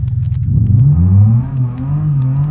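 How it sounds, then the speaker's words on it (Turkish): A BMW E34 525 engine in the BeamNG Drive driving game revs up loudly and holds high revs, with a rev limiter set at 7200; the rising and falling engine note fills the whole clip without any talk. "Yani güvenli sınırlar içerisinde biraz devir çevirtiyoruz araba."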